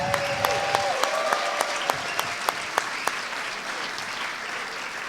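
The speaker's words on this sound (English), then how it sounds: "How about a round of applause for Dylan McCord, ladies and gentlemen?" Audience at a True/False film festival event clapping in sustained applause, a dense wash of hands with a few sharp louder claps standing out early, fading slightly toward the end.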